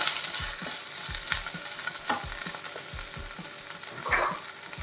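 Onion with ginger-garlic paste sautéing in a pan for egg roast, a steady close sizzle and crackle of frying with repeated scraping stirs of a spoon against the pan, no talking.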